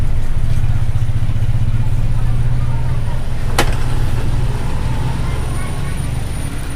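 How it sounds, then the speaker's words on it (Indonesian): A carbureted Toyota car engine idling at a very low, steady RPM after an air-mixture adjustment, a close, even low rumble with a brief click partway through, with someone talking over it. "memang RPM-nya saya bikin rendah sekali, tapi ini relatif stabil teman-teman"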